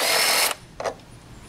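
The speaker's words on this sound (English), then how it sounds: "So the first way is with an impact wrench." An impact wrench removes the nut from a lawn mower blade, giving a loud half-second burst of rattling hammering, then a brief second burst after a short pause.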